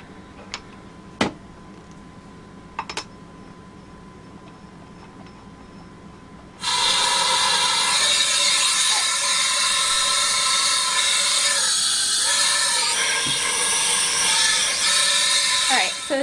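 A PMR paintball marker leaks air from the front of its bolt: after a few faint ticks and clicks, a loud, steady hiss starts abruptly and runs on continuously, with slight wavers near the end.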